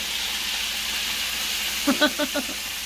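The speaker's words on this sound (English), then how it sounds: "Stirring it around in the butter to get that butter flavored with that garlic." Garlic sizzles in melted butter in a frying pan, a steady close hiss. A brief burst of speech-like sound comes near the end.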